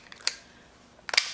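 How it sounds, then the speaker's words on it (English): Kitchen shears snip through a lobster claw shell, making two sharp, close crunching clicks about a second apart against a quiet background. "For this part of the claw, just again use your kitchen shears, a little bit of force."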